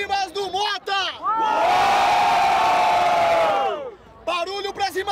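A crowd at a rap battle cheering and shouting loudly for several seconds, a sustained roaring wall of voices between bursts of an amplified host calling out to them.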